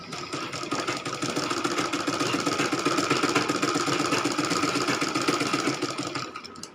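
A sewing machine stitching the folded hem of a handkerchief, running steadily at a slow, even pace with a continuous rapid mechanical rattle close up.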